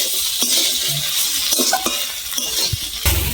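Banana stem, figs, potatoes, chickpeas and red chili are sautéed in a pan for a Bengali thor dalna. A spatula scrapes and clinks against the pan over a soft sizzle, close up, with no voices.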